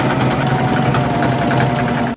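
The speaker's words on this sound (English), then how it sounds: "and then we can sew along the U shape." A sewing machine stitching a seam in pants made from quilt fabric, a fast, even motor hum with rapid needle chatter, close and loud, running steadily for about two seconds before stopping abruptly.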